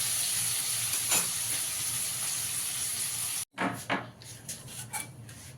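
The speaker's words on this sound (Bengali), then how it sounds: "ভালো করে আলুগুলো ভেজে নেবো আগে" Potatoes seasoned with salt and turmeric fry in oil with a steady, loud hiss and sizzle, then a brief cut followed by clinks and stirring of the pan.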